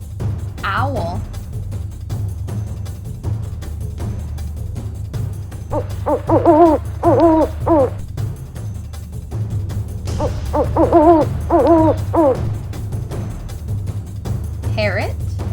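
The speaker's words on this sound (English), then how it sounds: "Owl." An owl gives several hoots in short groups over a low, steady background hum, with a voice heard alongside at times.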